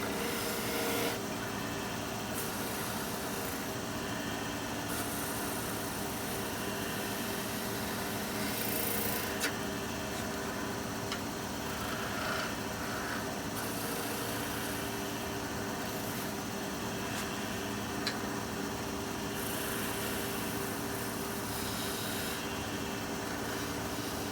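Steady continuous rasping and scraping of a 1/2 inch skew chisel cutting wood on a spinning lathe while turning small snowmen, with a constant motor hum underneath and no pauses, fairly close.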